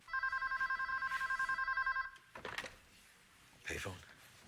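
A payphone rings in a TV drama with a rapid electronic trill, repeated bursts lasting about two seconds and fairly close. It cuts off, then a clunk and rustling follow, along with a later thump.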